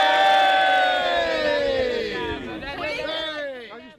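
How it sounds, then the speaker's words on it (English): A crowd at a 2017 UK anti-austerity rally lets out a big, loud cheer of many raised voices, strongest at the start and slowly fading over about four seconds. "Big cheer!"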